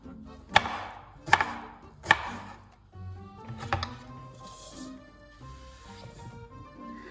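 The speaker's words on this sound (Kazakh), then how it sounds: "осы қызылшамызды да дәл солай төрт бұрышты етіп турап алатын боламыз" Raw beetroot being cut into cubes on a board, three sharp knife chops close together followed by softer cutting and a voice talking over quiet background music.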